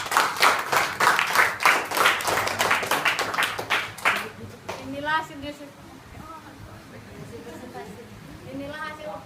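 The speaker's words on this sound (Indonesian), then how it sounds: "aplaus untuk kelompok 2." Classroom applause for a student group rings out loud and dense for about four seconds, then gives way to students talking.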